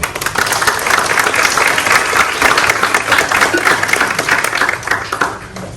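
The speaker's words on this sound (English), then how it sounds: "we just give them a round of applause" A round of applause from a graduation ceremony audience for Job Corps students, loud, dense clapping that holds steady throughout.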